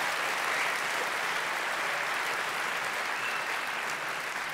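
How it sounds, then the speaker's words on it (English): Sustained applause from a cinema audience at a film premiere Q&A session. Dense, even clapping fills the room at a steady level for several seconds with no talk over it. "Give him another great round of applause."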